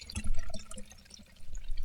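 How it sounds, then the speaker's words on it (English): Prime drink poured into a cup, a close splashing and trickling liquid sound with uneven gurgles that swell, ease off, then rise again, with no talking. "let me open up the Prime and pour it in the cup"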